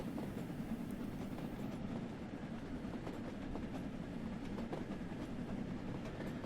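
A steam locomotive in Train Sim World 3 labors up a steep snowy gradient, its steady rumble and rail clatter running continuously at moderate distance with no voices.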